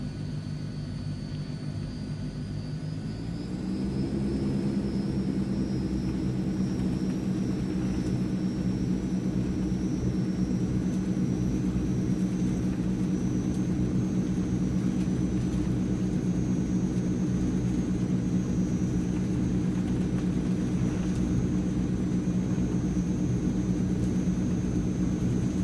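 Transall C160 cargo plane turboprops spooling up for the takeoff roll in Microsoft Flight Simulator, a steady droning hum that rises in pitch after a few seconds and then holds loud and even, with a thin high whine above it.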